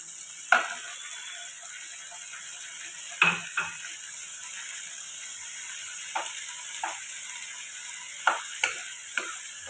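Steady sizzling of ginger paste frying in a pan, with a few sharp scrapes and clinks from stirring now and then.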